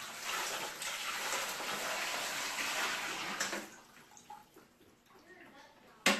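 Water splashes and gushes steadily while an aquarium filter sponge from a 220-gallon cichlid tank's Penn-Plax Cascade 1500 canister is rinsed, then it tapers to scattered drips and small splashes.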